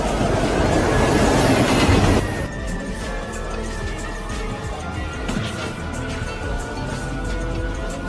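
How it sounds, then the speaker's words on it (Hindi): Train approaching on rails, a steady loud rumble with a broad roar that drops after about two seconds into a sustained grinding hum and faint rail clatter, with no talk. "वो आ रहा है। ट्रेन आ रही है।"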